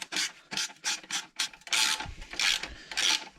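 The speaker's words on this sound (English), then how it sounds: "8mm socket to loosen off the clamp itself" An 8mm socket ratchet loosens the exhaust clamp on a 2020 KTM 1290 Super Duke R, giving eight quick rasping bursts of ratcheting clicks. The bursts come close and fairly loud, each stroke about a third of a second, with the last three longer.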